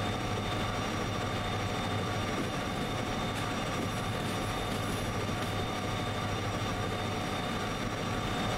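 A heavily loaded locomotive in the Derail Valley train game grinds uphill with its wheels slipping, giving a steady, dense rumble of engine and rail noise that stays constant throughout with no talking.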